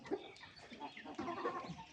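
A prize fighting rooster weighing about 5.5 kilos, nearby and moderately loud, its crowing-like calls and clucks rising through the middle and final stretch amid farmyard background noise.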